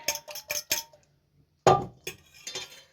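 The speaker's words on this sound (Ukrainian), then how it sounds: "Розбила яйце, додала дрібку солі." A few quick sharp taps in a row, a pause, then a louder crack followed by light clinks of eggshell against a bowl.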